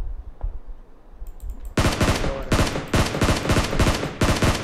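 SCAR assault rifle fire in PUBG Mobile, with a loud, rapid sustained burst of close gunshots following a short quiet moment and one faint early shot.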